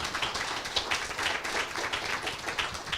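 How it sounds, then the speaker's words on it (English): A crowd claps at a medtech pitch competition for a winning startup, a dense, fairly even burst of applause from a moderately sized audience with no voices on top. "So let's give them a round of applause."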